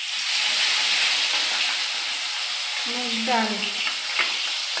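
A Bhola fish head frying in a pan gives a loud, steady sizzle with a bubbling hiss; a voice briefly speaks over it.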